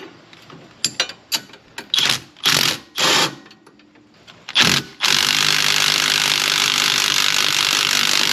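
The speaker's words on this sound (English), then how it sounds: "Alright, we just got to tighten those down, and that side will be good." A ratchet tightens bolts on a Spec B rear sway bar bushing of a Subaru Legacy GT, several short uneven bursts of clicking and cranking, then a sudden steady loud mechanical whir to the end.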